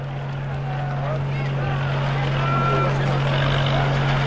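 A tractor engine hums in a constant low drone right through, steady and close, with a busy outdoor wash over it and no clear speech.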